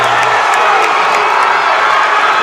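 A high school basketball crowd roars after a dunk, a loud sustained wash of cheering and shouting from a packed gym with a few whoops rising above it.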